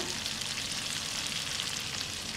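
Garlic and onion sizzle and fry in a hot pan, a steady dense crackle that holds at an even level throughout with no voices.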